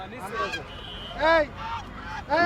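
Domestic geese at a busy village poultry market in Dhaka, Bangladesh give loud, nasal honks in repeated bursts close by, set against a murmuring crowd.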